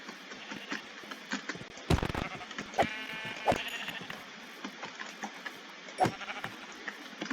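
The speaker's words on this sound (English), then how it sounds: "There's sheeps over here." Sheep in the Minecraft video game bleat several times over about seven seconds, with short nasal cries at irregular intervals, scattered clicks and faint background noise, and no talking.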